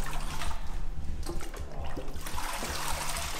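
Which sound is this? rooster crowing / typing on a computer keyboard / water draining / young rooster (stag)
water draining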